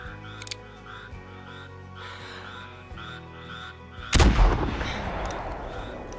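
A single sharp .45-70 rifle shot in a video game cracks loudly partway through, with a rumbling echo trailing off, after a stretch of quiet outdoor ambience with faint bird calls.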